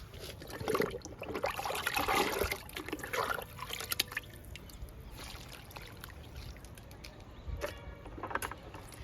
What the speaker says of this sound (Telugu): ఈ 2 మునగ మొక్కలకి లిక్విడ్ ఇచ్చేద్దాము